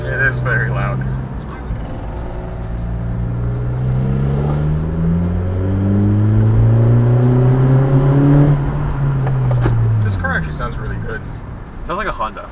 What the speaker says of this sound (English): Like a nice screaming Honda, you know? It has a lot more intake noise than exhaust.